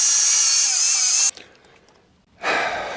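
A power drill whines loudly boring small holes into a van's metal, two bursts separated by a short pause with faint handling noise between them.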